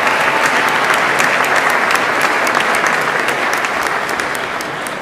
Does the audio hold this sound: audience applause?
yes